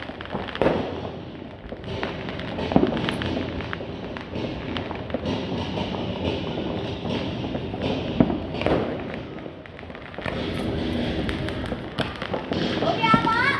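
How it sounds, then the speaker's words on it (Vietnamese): Many New Year 2025 fireworks pop and boom in a continuous, dense barrage from all around, some nearer thuds over distant crackle, while people talk throughout. "Tứ phía pháo rất nhiều"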